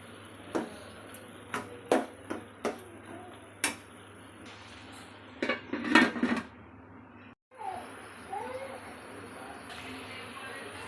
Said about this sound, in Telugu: బీరకాయ ముక్కలు వేసుకున్న తర్వాత ఇలా కలుపుకోవాలి